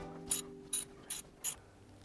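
A ratchet fitted with a deep 14mm socket clicks on the axle of a 2006 Toyota Tundra, four short, crisp bursts of rapid clicking, close and alone.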